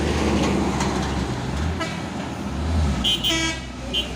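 An Isuzu Giga box truck from Kiat Ananda Group passes close by on a road, a loud engine roar with traffic noise and a couple of short horn toots near the end.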